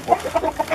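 A Bangkok classic chicken with jalak-colored plumage gives several short, close clucks in a quick uneven series, with no talking.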